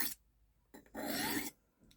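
A knife blade is drawn across the rods of a Lansky Turn Box sharpener in two short dry rasping strokes with a quiet pause between them, close up and fairly soft, with no voices.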